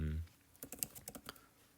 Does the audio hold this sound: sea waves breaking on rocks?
no